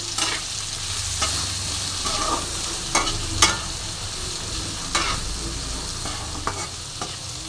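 Radish greens stir-fried in a pan with salt and turmeric, a steady close sizzle broken by repeated scraping strokes of a spatula at irregular intervals, no voices.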